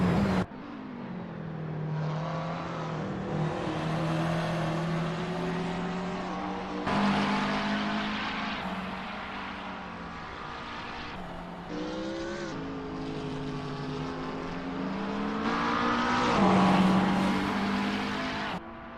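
GT3 race cars racing at night around Barcelona in Assetto Corsa, several engines wailing and shifting through gears with rising and falling pitch, loud and continuous, no talking.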